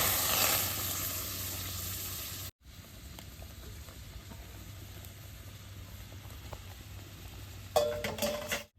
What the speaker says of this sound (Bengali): আমের রস ফুটি কড়াইতে দিয়ে দিই।